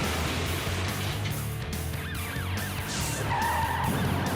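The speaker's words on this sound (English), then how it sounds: "He loses control and smashes into a palm tree." A car skids out of control during a police chase and crashes into a palm tree, with engine roar and tire squeal under busy road noise, and short bursts of skidding throughout.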